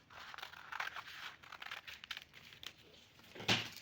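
Scissors cutting fabric for a baby frock, close and quiet: a steady run of crisp snipping and rustling cloth, ending in a sharper, louder cut.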